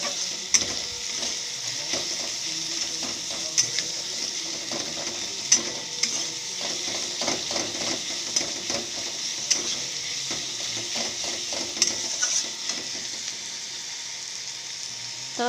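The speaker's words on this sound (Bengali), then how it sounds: "তখন পেঁয়াজটা ভাজা হোক," Onions sizzle steadily in rendered mutton fat while a spoon stirs them, with scattered scrapes and clicks against the pan over a continuous frying hiss, close and alone.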